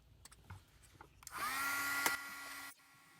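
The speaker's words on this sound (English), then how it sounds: "I'm getting my heating tool nice and hot" A handheld heat tool for melting embossing powder on a card switches on and runs with a steady blowing whine for about a second and a half before cutting off, close by and alone.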